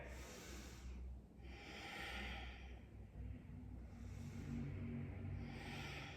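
Slow, deep yoga breaths held in airplane pose with eagle arms come in a steady cycle of long inhales and exhales, close and soft over a faint low background hum.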